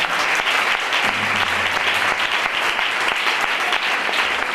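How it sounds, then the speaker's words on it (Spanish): Loud, sustained applause from a large church congregation during a Spanish-language sermon, dense steady clapping filling the whole stretch without pause. "Vamos a dar un fuerte aplauso al Señor."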